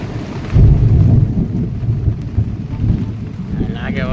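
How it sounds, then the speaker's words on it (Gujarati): Deep rolling thunder rumbles loudly through steady rain during a lightning storm, a low sustained growl swelling early and lingering under the patter. "વરસાદ બરોબરનો ગાજવા મળ્યો, વીજળી પણ થઈ રહી છે."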